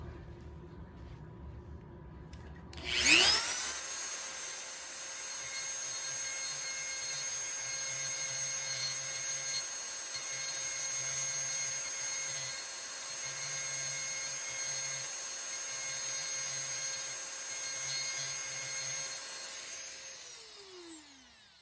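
Cut beer-bottle glass sanded on a motorized tool: after a quiet start, a loud, close whine spins up and holds steady for about seventeen seconds with faint grinding underneath, then cuts off, with no talking.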